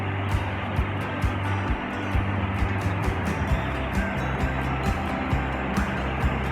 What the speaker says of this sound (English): Ezaro Waterfall.